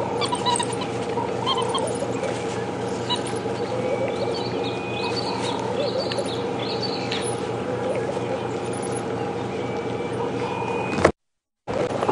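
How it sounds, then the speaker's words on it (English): Excited African wild dog pups at Djuma Game Reserve yip, whimper and twitter continuously in high bird-like squeals over a steady low background hum, ending with a brief dropout. "Pups getting excited amongst one another."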